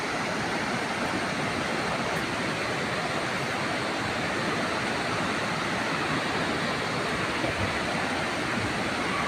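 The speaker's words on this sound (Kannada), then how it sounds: "ಇಲ್ಲಿ ತುಂಬ ಒಳ್ಳೆ ಫಾಲ್ಸ್ ಇದೆ" Sathodi Falls near Yellapur roars as a steady, broad wash of falling water, constant and even without any break, heard from close by.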